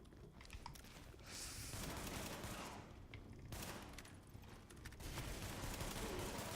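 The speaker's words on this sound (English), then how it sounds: "Firing in bursts against" Bursts of gunfire in the video game Tom Clancy's The Division, with several sustained volleys of rapid shots separated by brief gaps that come through fairly quietly.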